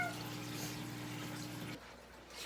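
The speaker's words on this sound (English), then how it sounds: "We are refilling the aquarium right now." Water refills a home aquarium as a steady, faint rushing pour with a low pump-like hum that stops partway through, leaving quieter running water.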